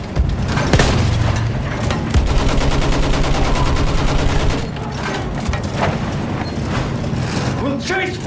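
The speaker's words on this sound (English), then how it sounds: "Use that machine gun!" Dense rapid gunfire and booms in a dramatized WWI trench battle, with machine-gun bursts rattling continuously under shouting voices, loud and close throughout.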